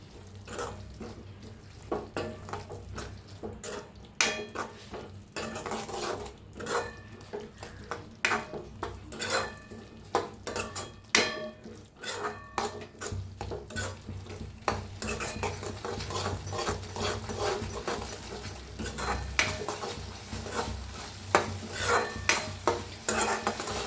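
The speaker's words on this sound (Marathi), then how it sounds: "दोन चमच गरम मसाला अर्धा चमचा अर्धा चमचा धना पावडर अर्धा चमचा आता भाजून घेऊया मसाल्याला बी" Garam masala and coriander powder roasting in a pan, heard as a long run of spatula scrapes and metallic clinks against the pan over a low sizzle, growing busier and denser toward the end, with no voices.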